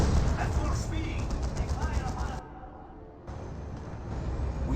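Battle gunfire and cannon fire in the Dawn of War 2 Elite mod, a Farseer versus Tech Marine match, with dense crackling bursts layered over a rumbling, continuous battle din, dipping quieter partway before resuming; no talk is heard.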